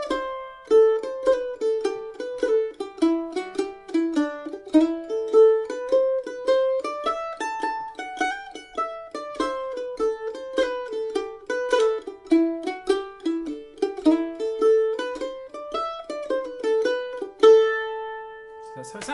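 The Irish tune The Star of Munster picked briskly on mandolin, a long run of quick, evenly articulated notes with rapid triplet flourishes, close and bright, ending on a held chord, with no voice over it.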